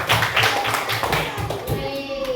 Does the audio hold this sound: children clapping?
yes